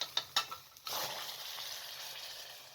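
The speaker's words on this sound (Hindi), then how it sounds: "इसके अंदर सफ़ेद ज़ीरा शामिल कर दें और ऊपर से इस तरह बघार लगा लें" A few quick clinks give way to a loud, steady hiss as a garlic and cumin tempering in hot oil is poured over kadhi, sizzling continuously up close.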